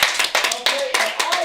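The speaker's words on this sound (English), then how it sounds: "Give yourselves a round of applause" A burst of applause from a small panel discussion audience, uneven clapping with a few louder swells throughout.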